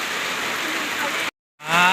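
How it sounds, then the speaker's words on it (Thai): Heavy rain falls at a rural Thai village home as a dense, loud, steady hiss that cuts out abruptly and then returns. "ฝนตกพี่น้อง"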